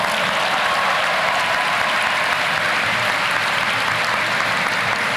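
A large convocation audience at the University of Pennsylvania gives the Glee Club a round of applause, a dense, sustained roar of many hands clapping at once with no break in the sound.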